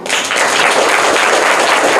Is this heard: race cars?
no